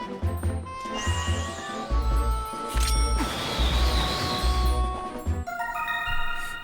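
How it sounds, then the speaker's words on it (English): Bright, shimmering chime tones ring out over rhythmic background music in The Legend of Zelda: Twilight Princess HD, with a rising sparkle repeating twice and a crash-like swell in the middle. "I can hear it making the twinkle sound"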